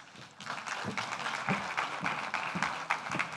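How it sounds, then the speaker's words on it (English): A seated audience at a panel discussion on the gambling industry gives dense, steady applause, with many hands clapping together at an even loudness for the whole stretch. "let's give them a big, big round of applause"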